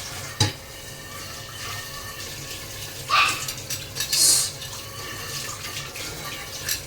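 Plates being washed at a kitchen sink, with a few sharp clinks of dishes and brief bursts of running tap water over a low background hum.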